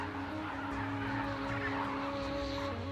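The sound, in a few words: migratory birds calling at a desert salt lake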